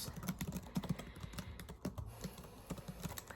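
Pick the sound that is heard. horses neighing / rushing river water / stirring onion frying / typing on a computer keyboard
typing on a computer keyboard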